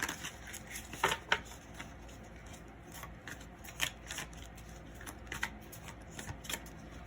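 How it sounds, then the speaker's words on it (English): Tarot cards being shuffled by hand at close range, soft riffling and slapping bursts coming in irregular clusters against a quiet room, with no speech. "So just quickly let me shuffle here."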